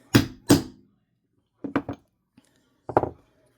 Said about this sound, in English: Take your little hammer. You do not need a big hammer for this.